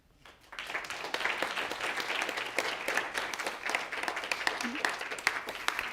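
Sustained applause from a sizable lecture audience at the end of a university lecture, many hands clapping densely and steadily after a quiet start.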